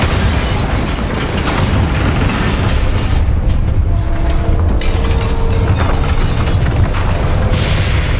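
A Bombarda spell blast in the Hogwarts Legacy video game, a loud booming explosion amid continuous dense rumbling combat noise with no talk.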